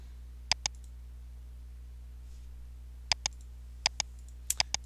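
A computer mouse clicks sharply in pairs and short runs: a double click, then a pause, then several quick crisp clicks, close and clear over a faint hum.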